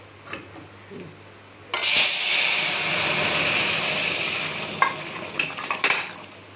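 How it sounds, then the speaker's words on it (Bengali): Mustard seeds, nigella and dried chilli hit hot oil for a dal tempering: after a few quiet clinks, a sudden loud burst of sizzling hiss holds steady, then fades into a few utensil knocks and clatters. "টক ডালে হচ্ছে সর্ষে ফোড়ন দেয়, কালো জিরা ফোড়ন দেয়, আর শুকনো লঙ্কা, এই যে ফোড়ন দিয়ে দিচ্ছি"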